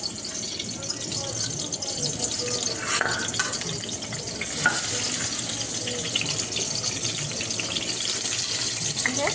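Eggs frying in a pan for egg curry give off a continuous, loud, close sizzling hiss with faint crackles throughout, steady from start to finish.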